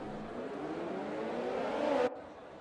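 Race cars in the F1 2020 video game accelerating off the starting grid at the Italian Grand Prix, a loud rising chorus of engines revving together and climbing in pitch before cutting off sharply.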